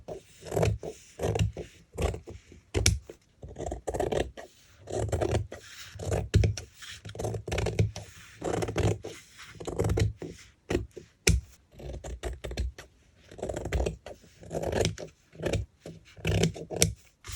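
Fabric being cut by hand during home fabric printing, close rhythmic rasping snips and rubbing scrapes repeating steadily in bursts, fairly quiet with no talk.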